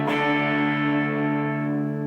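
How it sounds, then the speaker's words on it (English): A sustained distorted electric guitar chord rings out through a Vox or Blackstar HT Club 40 amplifier and slowly decays, carrying a lush reverberant tail from the amplifier's reverb. "Nice reverb on there. It sounds quite sweet."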